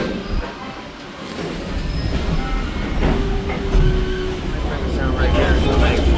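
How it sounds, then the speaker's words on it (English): Former Norfolk and Western diesel locomotives hauling Norfolk Southern train K86 build into a steady, swelling low roar as the prime mover revs, with rail rumble and clatter underneath, loud and close throughout. "when they rev up the prime mover"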